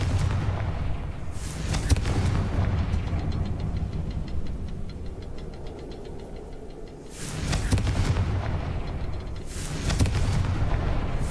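Blasts of the Confringo spell in the Hogwarts Legacy video game: several heavy booming explosions burst at intervals, each with a loud crack and rumbling tail over a steady background of game ambience.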